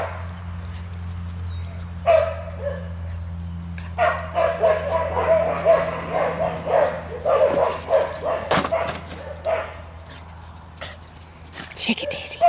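A dog barks and whimpers in excited bursts, near and loud, with speech and a steady low hum underneath through much of it.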